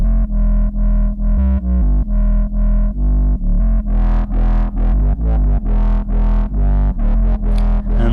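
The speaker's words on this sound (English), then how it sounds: "Drive can be interesting also for the bass." A dub bass line runs through a drive distortion effect, heavy buzzing low notes pulsing in a steady repeating rhythm, loud and alone, the tone brightening and growing grittier partway through.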